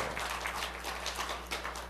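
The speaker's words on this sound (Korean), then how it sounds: "박수 한번 쳐주세요." A church congregation at a Friday worship service claps together, a dense, even patter of applause under a low steady hum, heard briefly and moderately loud.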